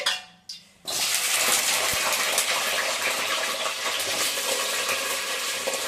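Green chillies hit hot oil with a sudden loud, steady sizzle and crackle that fills the pan, after a few brief clattering knocks, close and continuous with no talk.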